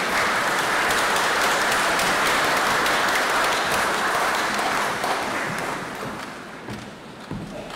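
A cathedral congregation at a bishop's installation in Rockhampton breaks into sustained, loud applause that fills the space, then gradually thins and fades toward the end.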